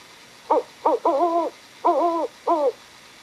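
A voice imitates a tawny owl: a few short hoots followed by three drawn-out wavering calls, clear and alone against a quiet background.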